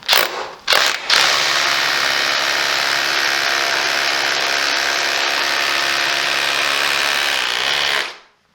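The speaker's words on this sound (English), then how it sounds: "drill me hole to make a start," A power drill bores a hole into a building wall to fit cavity wall membrane, running loud and steady for about seven seconds after a couple of brief starts, then stopping.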